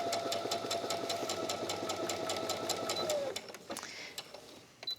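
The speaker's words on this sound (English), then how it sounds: "then we're just going to sew along one of the edges" A sewing machine runs steadily for about three seconds, stitching quilt squares together along one edge with a quarter-inch seam allowance for a log cabin quilt, then stops, leaving a few faint clicks and handling sounds.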